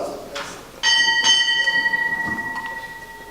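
Two clear bell strikes ring out with long, sustained metallic tones at a Navy chief petty officer's retirement ceremony in a San Diego restaurant, lingering and fading after the second ring.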